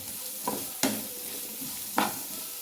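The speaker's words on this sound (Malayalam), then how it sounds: "സവാള കുത്തി എരിഞ്ഞ് വെച്ചതും ചെറിയുള്ളിയും കൂടെ എരിഞ്ഞും കൂടെ ഇട്ട് കൊടുത്തിട്ടോ നമുക്കത് നന്നായി വരിഞ്ഞെടുക്കാം" Onions and shallots sauté in a hot pan while being stirred for a squid masala, with a steady sizzle broken by a few sharp scraping stirs at close range and no talk.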